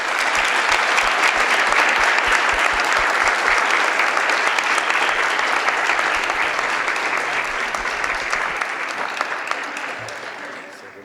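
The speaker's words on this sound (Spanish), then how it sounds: "Un aplauso pido para ellos." Audience at a public health panel on human and veterinary medicine applauds the doctors, a dense, steady burst of clapping that carries for about ten seconds before tapering off at the end.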